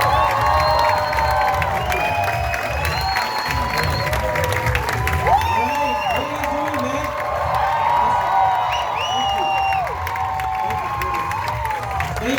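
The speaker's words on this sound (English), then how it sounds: "So with a roaring round of applause, I would like to bring back Dr. Ravi back to the stage." A large audience at a training seminar applauds and cheers continuously as the speaker returns to the stage, with scattered whoops and shouts rising above the steady clapping.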